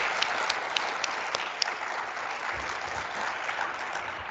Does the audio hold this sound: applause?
yes